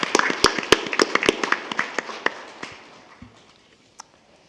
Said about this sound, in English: If I could have a round of applause.